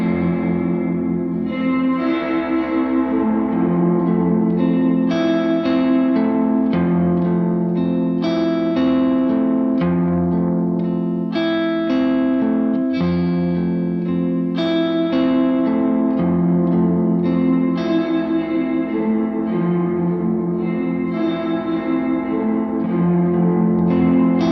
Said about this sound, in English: here's the reverb